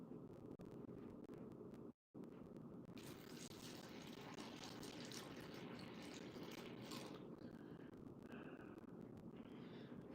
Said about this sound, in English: You guys get to watch me water my trees.